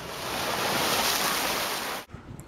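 Ocean surf surges at a seaside blowhole beside a rocky tidal pool on St. Thomas in the U.S. Virgin Islands, a steady loud wash with wind across the microphone, cutting off abruptly near the end.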